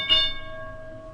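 A single bell strike rings out and then decays steadily with a sustained tone, alone with no voices.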